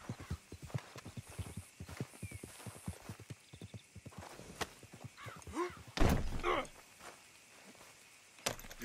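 Horse hooves clip-clop in steady walking rhythm in Red Dead Redemption 2, close and clear over a quiet outdoor backdrop, with a brief whinny and a couple of heavy thunks near the end.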